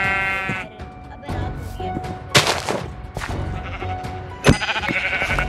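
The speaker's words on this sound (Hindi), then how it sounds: "यहाँ पे ना भेड़ बकरियाँ बहुत हैं, तो मैं भेड़ बकरियाँ मारता हूँ ज़रा" Sheep bleating in the video game Minecraft, with repeated short bleats over game sounds and background music, some louder bursts standing out near the middle and end.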